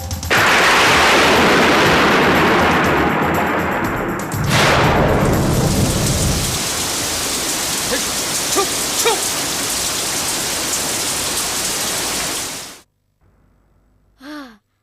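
Heavy, steady rain pours loudly as a thunder-like whoosh sweeps through early on, staged as a sound effect in a Tamil fantasy TV serial; the downpour cuts off abruptly near the end, followed by a short faint sound.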